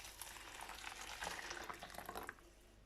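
Hot water poured over millet grains, a soft continuous bubbling and splashing pour lasting a few seconds at low volume, with no talking.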